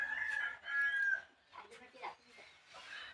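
A year-old rooster crows in drawn-out, high calls near the start, followed by softer clucks and scattered animal sounds, fairly close and moderately loud.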